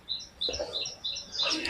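Small birds in a park give several short, high chirps in quick, irregular bursts at moderate distance, fairly faint against quiet background.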